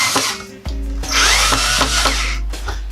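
A power drill whirs in several bursts, its motor spinning up and bogging down as screws drive in to fit cabinet handles, loud and close with short pauses between.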